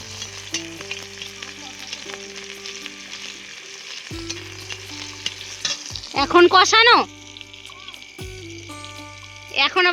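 Chicken curry sautéing and being stirred in a pan, a steady sizzle running throughout with scraping stir strokes and louder bursts near the end, while tonal background sounds and voices intermittently sit over it.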